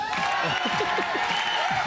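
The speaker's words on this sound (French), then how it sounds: "Applaudissements et bruit pour Crésus." A television game show studio audience claps and cheers in a steady dense roar, with a voice speaking briefly over it.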